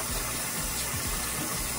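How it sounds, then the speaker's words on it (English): Cold tap water gushes over cooked noodles being drained, a loud, close, continuous rushing splash lasting under two seconds. "drain it with some cold water"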